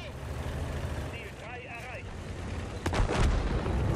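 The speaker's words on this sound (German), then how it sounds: "Hab mir hier noch einen eingefangen von der Su 130." In the World of Tanks video game, a tank takes a shell hit from an SU-130, a loud booming impact landing near the end over rumbling engine and battle noise.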